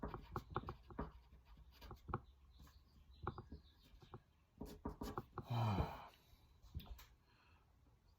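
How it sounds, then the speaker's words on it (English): A pen scratches across paper in short, faint strokes and taps, irregular and close, with brief pauses and one longer rustling scrawl. "let me write it down"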